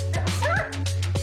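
A young guide dog at a training school that prepares dogs for visually impaired teenagers gives several sharp yips and barks mixed with high whimpers, close and loud, over a steady low hum.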